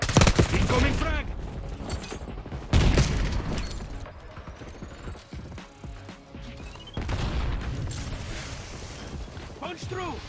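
Frag grenade blasts in the Call of Duty Black Ops 6 video game: two loud, heavy booms a few seconds apart amid ongoing gunfire and game clatter, with in-game voices calling out.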